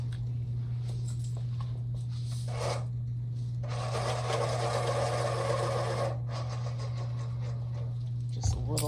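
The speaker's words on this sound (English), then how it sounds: "I need to sharpen this." A colored pencil is sharpened in a short grinding burst of about two seconds, with quieter scraping before and after over a steady low hum.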